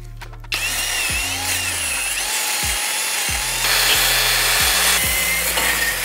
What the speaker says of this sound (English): I like to use this little wire wheel on my drill here.